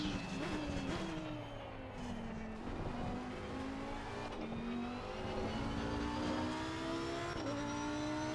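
A race car on worn tires revs and accelerates through gear shifts in a racing video game, the engine whine rising and dropping steadily and close.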